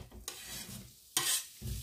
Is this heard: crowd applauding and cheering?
no